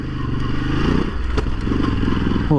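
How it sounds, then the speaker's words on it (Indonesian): A motorcycle engine of roughly 110-120 horsepower drones loudly and continuously up close, with clattering and scraping from rough off-road ground as the bike rides along. "Kalau buat off-road enteng gini mah gampang banget motor ini."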